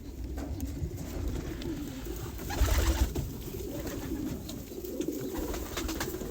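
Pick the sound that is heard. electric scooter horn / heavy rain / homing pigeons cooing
homing pigeons cooing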